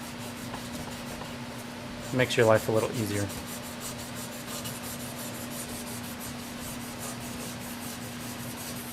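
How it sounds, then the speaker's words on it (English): Sandpaper rubbed in steady, rhythmic strokes on a part of a Bach Stradivarius trumpet during a retrofit, a soft, close scratching, with someone speaking briefly over it. "longer strokes with the sandpaper will remove material faster"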